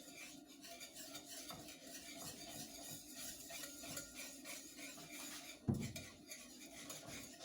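Bechamel sauce for scalloped potatoes is whisked in a pot, a quick continuous rhythmic scraping and clinking of the whisk against metal, fairly quiet and close, with one sharper knock near the end and no talk.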